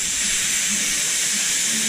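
A pressure cooker of lentil soup, up to pressure on a range, gives off a steady, loud, continuous hiss of escaping steam with no pauses.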